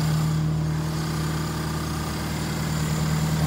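A Toyota 4K engine idles in an owner-type jeep, a steady close rumble with an even low hum that runs unbroken and alone.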